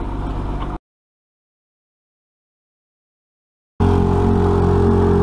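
A steady sailboat engine drone runs, cuts out abruptly to silence for about three seconds, then resumes at the same even level.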